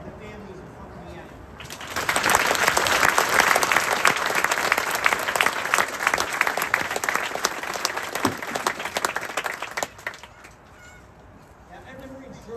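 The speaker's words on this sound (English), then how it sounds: "join me in a round of applause for the officers, the drill instructors, and the families of Company M" A large crowd applauds at a Marine Corps recruit graduation in San Diego, clapping swelling in after a quiet moment, staying loud and steady, then tapering off, with faint voices near the end.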